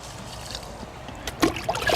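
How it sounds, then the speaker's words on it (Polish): Water poured into a box of fishing pellets, a short close trickle and splash building near the end over quiet background, no speech. "tak żeby woda przykryła cały pelet"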